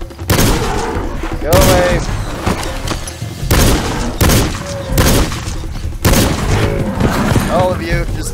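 Gunshots from the hunting video game Cabela's Dangerous Hunts 2013: a handful of loud, sharp reports spaced a second or two apart, mixed with in-game thuds while someone talks throughout.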